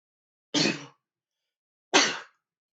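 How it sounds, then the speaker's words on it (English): Two loud, close sneezes from a man, each a short forceful burst, separated by about a second of silence. "I was waiting to talk because I knew a sneeze was coming up there."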